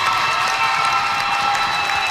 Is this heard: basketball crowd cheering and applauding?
yes